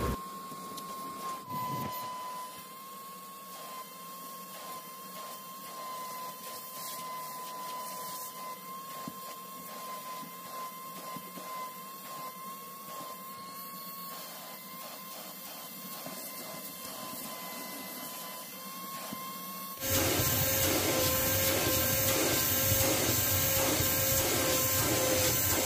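A Prestige Typhoon 05 vacuum cleaner pulls dust from a car's interior with a steady, close motor whine and a rushing airflow, plus scraping and rubbing of the nozzle, jumping noticeably louder and harsher near the end.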